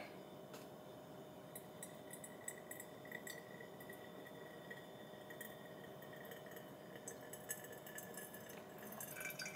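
Water pours steadily over a Mugen coffee dripper to rinse it, a faint, continuous splashing trickle with small glassy clinks scattered throughout.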